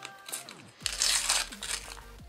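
Crinkling and tearing open a Panini UEFA Euro 2016 sticker packet: close, crisp foil crackling builds into a loud rip with bursts of crumpling, over a faint low hum.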